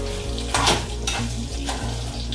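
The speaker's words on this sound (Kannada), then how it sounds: "ಚೆನ್ನಾಗಿ ಹುರ್ಕೋಬೇಕ್ರಿ ಕರಿಬೇವಿನ ಸೊಪ್ಪು" Garlic and dried Byadagi chillies frying in oil in a pan, a close steady sizzle broken by repeated spatula stirs and scrapes against the metal.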